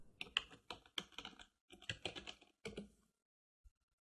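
Typing on a computer keyboard in short clustered bursts of clicky keystrokes, close and fairly quiet, with brief pauses between runs before the tapping stops.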